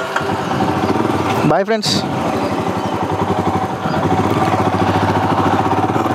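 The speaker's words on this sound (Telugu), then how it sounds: "ఇప్పుడు మనం రైడ్ చేస్తున్నాం రాయల్ ఎన్ఫీల్డ్ హిమాలయన్ 411 2021 మోడల్" A 2021 Royal Enfield Himalayan 411 motorcycle thumps close by with a steady single-cylinder rumble, briefly revving up mid-clip. Someone talks over the engine for most of the clip.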